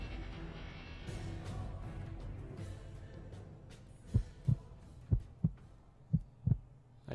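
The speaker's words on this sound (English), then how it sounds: "I hear a heartbeat." A cartoon-style heartbeat sound effect thumps in paired beats, soft then louder, repeating steadily over a low musical drone in a cartoon fight.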